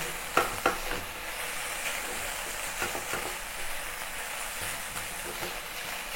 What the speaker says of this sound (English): Fry the ground meat until it's fully cooked and then mix together with the ginger, garlic, green onion and chili